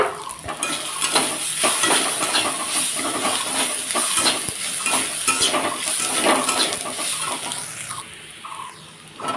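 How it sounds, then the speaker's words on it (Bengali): A spatula scrapes and stirs egg in a pan while Maggi noodles are being cooked, giving busy metallic clatter and scraping over a soft sizzle, close and continuous, easing off near the end. "তো ডিমটা দেখো এই সাইডে একটু আমি নাড়াচাড়া করে নিচ্ছি"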